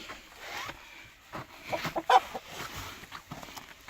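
A rooster's clucking calls rise over outdoor background noise, with a louder burst in the middle and scattered rustling around it, among hens.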